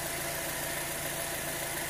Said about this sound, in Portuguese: veja como que vibra o motor, ó